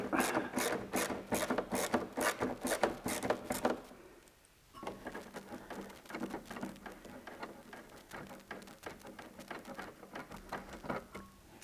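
A Torx drive bit works a screw out of a Porsche 997 Turbo exhaust in a series of quick ratcheting clicks, a short pause, then more irregular mechanical clicking and scraping at close range.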